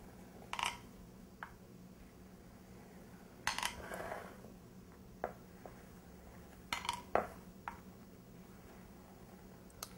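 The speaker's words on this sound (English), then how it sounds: "So now we're going to cut it into 9 squares. I'm just going to eyeball it and score the top." A knife scores the top layers of pistachio and orange blossom baklava in a pan: a few quiet, separate clicks and crisp taps in small clusters, close and sparse against near silence.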